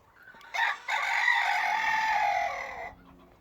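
A rooster crows loudly and close by among a laying flock of hens, one long drawn-out call after a short opening burst, with soft clucking before and after.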